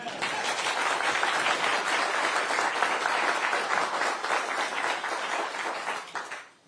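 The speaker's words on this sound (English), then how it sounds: "I was waiting for the applause to come down there" Sustained crowd applause at Sir Ed Davey's Liberal Democrat manifesto launch, a thick steady wash of clapping that tapers off at the end.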